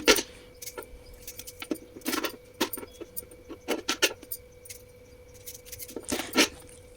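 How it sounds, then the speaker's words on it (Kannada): A knife slices four or five green chillies on a board in a home kitchen, making irregular light taps and clicks close by over a quiet background with a faint steady hum. "ನಾನೊಂದು ನಾಲ್ಕರಿಂದ ಐದು ಹಸಿರು ಮೆಣಸಕ್ಕನ್ನ ಕಟ್ ಮಾಡ್ಕೊಳ್ತಾ ಇದ್ದೀನಿ"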